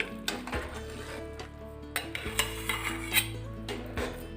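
A spoon scrapes and clinks against a pan while peanut barfi mixture made with ground peanuts and milk is stirred, a steady close scraping with light metallic knocks.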